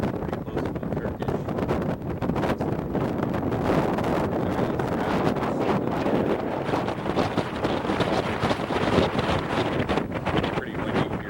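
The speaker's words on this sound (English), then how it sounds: "Pretty windy here." Strong wind at sea buffets a boat sailing among the Greek islands near Rhodes, a loud, continuous rushing roar that fills the whole stretch without letting up.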